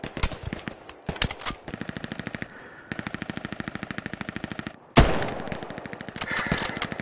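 Rapid automatic gunfire bursts in the World War II shooter Hell Let Loose, on the Foy Offensive map, rattling in long repeated strings with a loud sharp shot near the middle, no talk over it.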